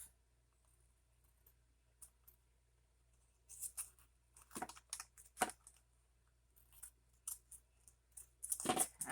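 Scissors cutting through an index card while crafting a pocket, a few quiet snips early then a louder, faster run of crisp paper cuts near the end, alone without talk.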